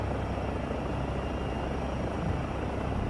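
A Eurocopter helicopter engine and rotor in Microsoft Flight Simulator 2024 near Carlisle, heard as a steady, dense cabin drone with low rumble, constant and even throughout, no voices.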